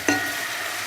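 Chopped onion with salt fries in a pan, a brief bright sizzle with a quick scrape of stirring at the start, close and steady.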